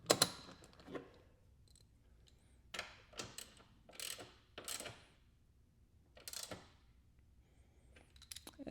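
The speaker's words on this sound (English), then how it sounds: "snug her up with the ratchet." A ratchet snugs down a small plastic horn-connector part during a Porsche Cayman door-lock horn mod, giving scattered short bursts of clicking separated by pauses, close and fairly quiet.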